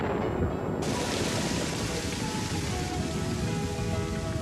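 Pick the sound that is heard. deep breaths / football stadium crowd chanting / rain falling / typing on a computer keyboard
rain falling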